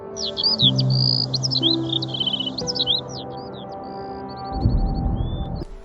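A parrot chirps from a tree in a forest, a busy run of bright, rapid chirps and trills close by, over a low drone and soft tonal background music.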